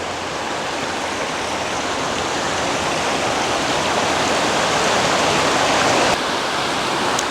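A creek at Seven Tubs Nature Area near Wilkes-Barre, Pennsylvania, rushes over rocks in a continuous, loud, close wash of flowing water, steady throughout with no voices.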